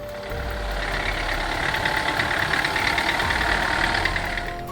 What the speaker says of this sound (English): tractor running on 3 wheels.